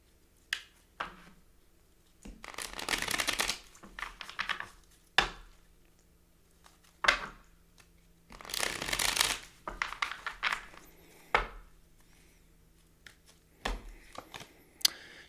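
Tarot cards are shuffled close by in bursts of riffling and sliding, with soft taps and handling sounds between the bursts in a quiet room.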